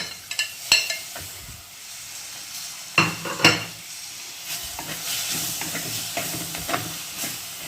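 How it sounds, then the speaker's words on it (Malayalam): Chopped small tomato and curry leaves frying in a pan for a Kerala-style coconut prawn curry, with a steady sizzle and hiss under sharp stirring clatters and scrapes. "ഇതിലേക്ക് നമുക്ക് തക്കാളി ഇടാം."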